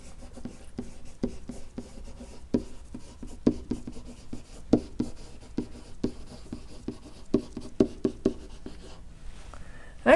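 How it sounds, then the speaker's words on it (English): Handwriting a math equation for a tangent line, likely marker or pen on a board, with steady scratching strokes and frequent sharp taps and clicks throughout, close and fairly quiet, no talking. "now we can write the equation of the tangent line"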